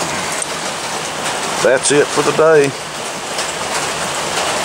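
Steady rain falls outdoors on a rainy winter day in Alabama, a continuous broadband hiss of drops on the ground, with someone speaking briefly in the middle.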